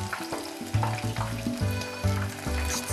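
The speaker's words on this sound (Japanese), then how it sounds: "次は味付けした鶏もも肉を揚げていくよ。" Seasoned chicken thighs deep-fry in hot oil with a steady crackling sizzle, continuous and fairly close, with light bubbling and occasional clinks.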